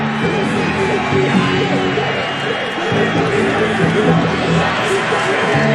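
Sold-out stadium crowd at Foxboro during an NFL football game, a dense, steady roar of cheering and babble filling the space without a break.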